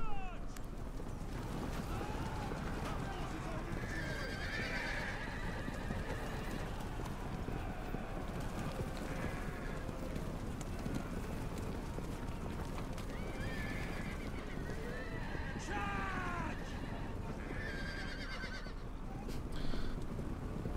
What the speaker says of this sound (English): The horse, should we say, sound effects in this must be relatively effective.